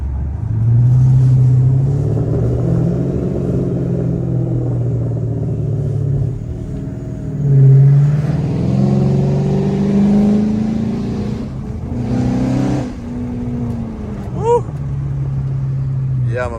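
A car's engine idles and revs during a test drive by its new owner, a low rumble that swells with acceleration and eases off, with talking over it at times.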